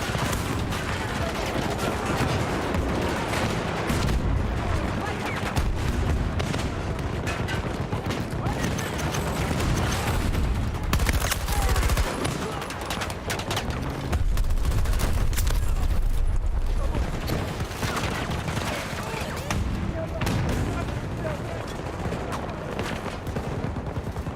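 Rapid gunfire rattles through a video game battle, dense bursts of shots and machine-gun fire stacked nearly nonstop and loud, with some voices mixed in underneath.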